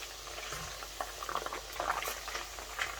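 Strips of fish deep-frying in hot oil give a steady bubbling hiss, with scattered crackles and pops that grow busier toward the end. The sound is close and continuous, with no talking.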